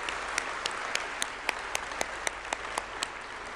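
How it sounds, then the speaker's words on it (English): Applause for prize winners in a large hall at a global entrepreneurship summit, a steady wash of crowd clapping with a few sharper individual claps standing out at a regular pace. "So let's give all of them a round of applause."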